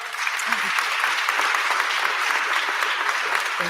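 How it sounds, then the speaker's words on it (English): A live audience at a writers' talk claps continuously for several seconds in a full, even burst of applause. "I didn't think that one was gonna get a clap"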